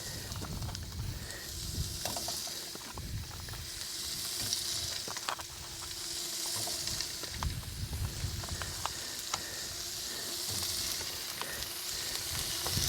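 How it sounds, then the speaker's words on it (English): Shrimp sizzle in a hot pan for a stir fry, a continuous close hiss and crackle with occasional stirring scrapes and soft knocks, and no voices. "I'm going to do sort of a stir fry shrimp, and I got these shrimp, and I'm going to put them in here and just let them start cooking"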